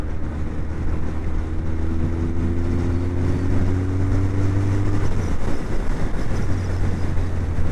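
A Suzuki GSX 1400 motorcycle cruising at speed in sixth gear gives a steady, loud engine drone with a low hum and a sustained tonal whine that holds for several seconds, then dips briefly and returns.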